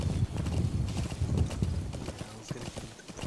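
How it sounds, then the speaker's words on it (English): Horse hooves clip-clop at a steady walking pace through a camp in Metal Gear Solid V: The Phantom Pain, close and continuous under ambient game sound. "you want the horse to just die walking through the camp?"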